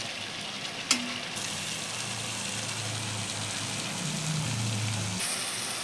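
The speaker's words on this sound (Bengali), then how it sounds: "শস্যটা একটু ভেজে নেব" Seeds frying in a hot pan while cooking fish curry, a steady hiss and crackle of sizzling that is near and continuous, with a clink early on and low stirring sounds later.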